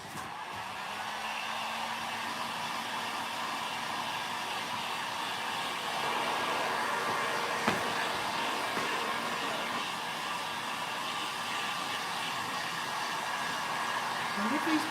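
A hair dryer blows steadily over freshly painted decor on a Christmas-themed tray, a constant whooshing hum at moderate distance with no talking.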